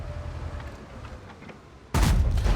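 A single loud, booming tank gun shot in World of Tanks erupts abruptly near the end after a stretch of quiet background noise, its blast rolling on briefly.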